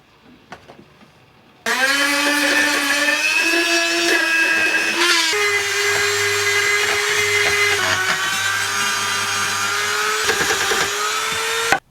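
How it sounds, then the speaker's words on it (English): A Dremel rotary tool sands slots in oak handles, a loud steady high-pitched whine that dips in pitch as it bites into the wood, with a brief interruption midway and then sustained running. "remembered that I'd recently bought a Dremel tool"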